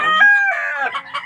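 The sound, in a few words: rooster crowing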